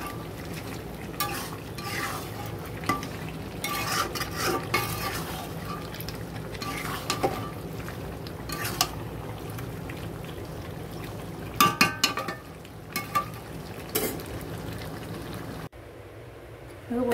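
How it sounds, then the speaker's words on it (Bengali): Spices for a fish curry being stirred and fried in a pan, a steady low sizzle with repeated scraping stirs and clinks running throughout, close and moderately loud, with a brief quiet break near the end. "সব মশলা দিয়ে দেওয়া হয়ে গেছে, ভালো করে কষবো"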